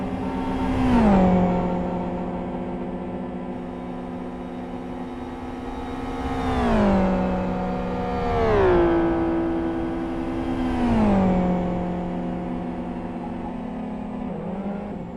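A GT World Series race car leaving the pits, its engine rising through several long revving sweeps as it changes gears, a smooth loud whine close by with no voices.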